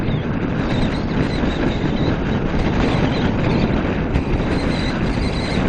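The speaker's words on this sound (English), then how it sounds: "I don't mind the little bit of wind buffeting I've got right now." Wind buffets a rider on a 2017 Kawasaki Ninja 650 as a loud, constant broadband roar that stays steady and close throughout, with no talking.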